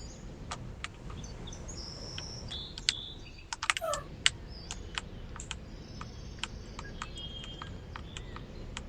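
Sharp, scattered clicks of computer keyboard keys pressed while driving in the Proton Bus simulator, heard close over a low steady engine hum, with a brief cluster of quick taps midway.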